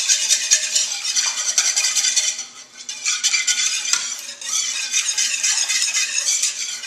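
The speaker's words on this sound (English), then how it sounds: "Then, with a whisk, I'm just simply going to blend this all together." Popover batter with canola oil whisked briskly in a bowl, a continuous close, bright rattling swish of wire against the sides with one short pause in the middle, loud and steady with no talk.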